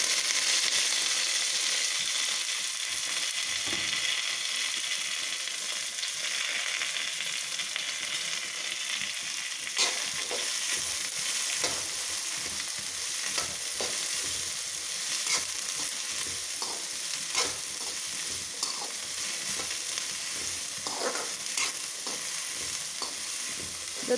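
Chopped taro leaves for a Kerala tal thiyal sauté in hot oil in a pan, giving a steady close sizzle throughout, with occasional scraping and stirring clicks of a utensil and no talking.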